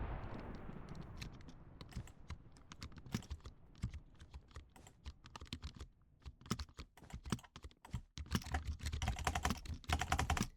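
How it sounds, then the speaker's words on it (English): Keys of a mechanical computer keyboard clack in quick irregular bursts during gaming, starting sparse and building into a dense, loud flurry of close clicks. "This keyboard sounds terrible"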